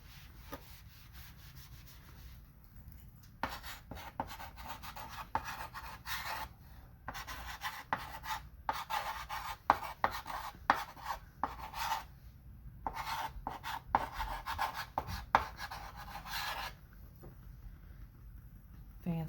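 Chalk scratches and taps across a chalkboard in short irregular bursts of strokes, quiet and close, with brief pauses between words being written.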